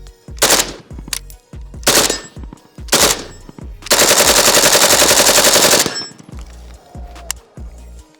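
An AK rifle with a quick-detach muzzle brake fires loud, close single shots, then a sustained full-auto burst of about two seconds empties the magazine, followed by faint clinks.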